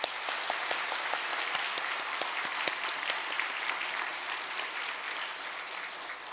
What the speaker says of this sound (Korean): 고은식 목사님에게 감사의 박수 올려드리겠습니다